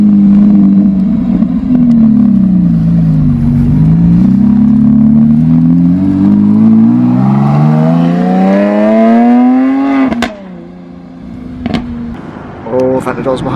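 A Lamborghini Aventador engine at a car barn revs and climbs in pitch as the car pulls away, loud and close, before cutting off sharply with brief trailing engine bursts afterward.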